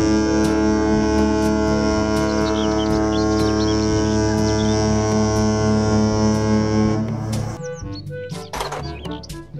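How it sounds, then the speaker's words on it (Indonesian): A deep, continuous ship horn drones loudly with a steady engine rumble underneath, then breaks off near the end into scattered higher chirps. "Kapal pesiar."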